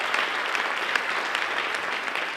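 A round of audience applause at a city symposium opening address, dense and even clapping from a large crowd, sustained without voices for a couple of seconds.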